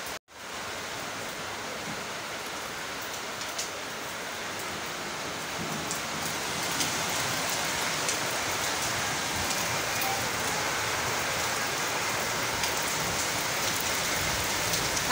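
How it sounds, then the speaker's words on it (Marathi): Heavy rain pours down in a dense, steady roar of drops hitting surfaces, growing slightly louder midway and continuing without pause, with no voices. "तर बघा कसा पाऊस येतो।"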